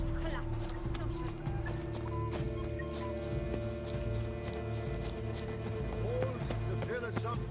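Horse hooves clip-clop steadily in The Witcher 3: Blood and Wine, a continuous rhythmic trot under ambient game sound and background music.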